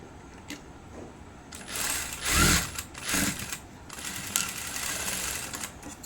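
Sewing machine stitching folded blouse fabric in short bursts, with louder runs of rapid stitching near the middle and lighter mechanical rattling around them, close and clear with no talk.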